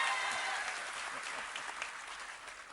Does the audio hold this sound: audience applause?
yes